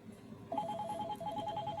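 A cellphone rings indoors with a rapid repeating electronic trill that starts about halfway through, steady and fairly clear over a low room hum.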